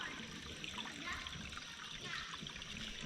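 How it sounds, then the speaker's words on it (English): Small creek running through the middle of a woodland trail, a soft steady trickle and babble of water, faint and continuous with no distinct splashes and no talking. "Little creek running right through the middle of the trail."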